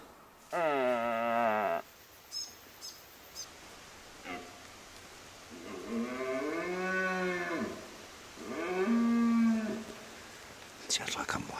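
A red deer stag roars several times, long harmonic bellows rising and falling, moderately loud and somewhat distant outdoors, with a few quieter sounds between calls.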